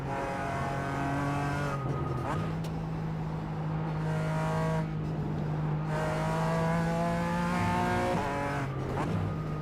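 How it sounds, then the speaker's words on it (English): A race car in a sim racing video game drones with a steady, loud exhaust and engine note that rises and dips as the throttle changes, continuous throughout with no talk. "There's a lovely little exhaust noise."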